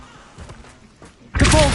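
A Levioso levitation spell is cast in Hogwarts Legacy: after a quiet stretch with soft thuds, a loud, bright magical whoosh bursts in abruptly near the end, with a rising whine inside it.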